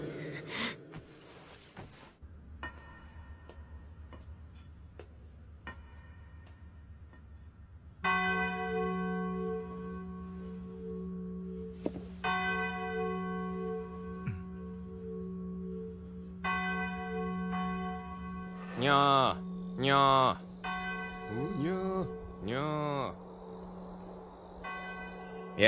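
A church-style bell tolls at midnight, several resonant strikes with long ringing decay, heard at moderate distance, with gasping breaths and other sounds toward the end.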